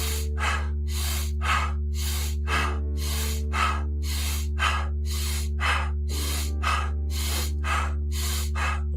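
Kapalabhati pranayama breathing, made of rhythmic forceful nasal exhalations about twice per second, each a sharp close puff over a steady low hum, repeating evenly with no speech.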